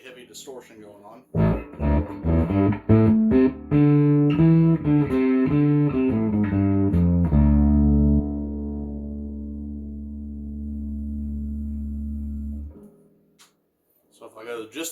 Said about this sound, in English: With some really heavy distortion going on.